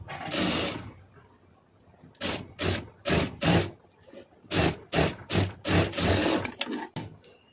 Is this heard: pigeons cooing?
no